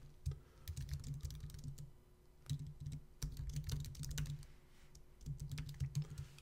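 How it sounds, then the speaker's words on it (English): Steady typing on a computer keyboard, with quick, clustered key clicks in short runs and brief pauses, close and clear over a low background hum. "type my message and say,"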